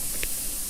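An air-over-oil manifold with nozzles sprays a fine oil mist at 50 psi, giving a steady, faint hiss across the short moment with one brief brighter puff near the middle.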